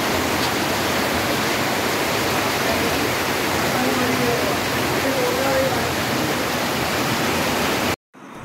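The flooded Khari River surges past a highway beside submerged granite-mining areas, a dense continuous roar of rushing water that holds steady for about eight seconds before cutting off abruptly.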